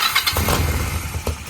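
A small engine on a Chinese go-kart with a carburetor needing cleaning sputters and revs briefly as throttle is given, a close, rough, uneven burst of engine noise.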